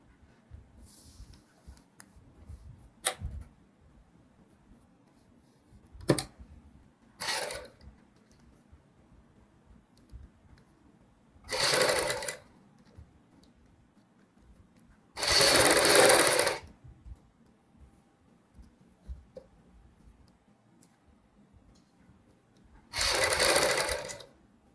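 A sewing machine stitching lace onto a kurti neckline runs in several separate bursts, one or two seconds each, loud and close, with quiet handling pauses between them.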